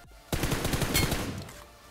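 A short burst of rapid gunfire in the video game BGMI, loud and close, several shots in quick succession that fade after about a second.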